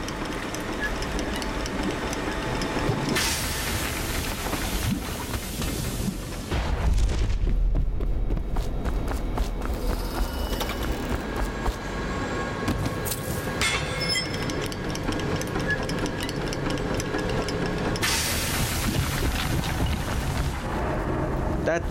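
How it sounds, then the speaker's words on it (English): Valves opening in the video game Dishonored: The Knife of Dunwall set off a loud, continuous mechanical rumble with heavy low-end roaring and surging bursts, like grinding machinery, with no talk. "Open the valves, shall we?"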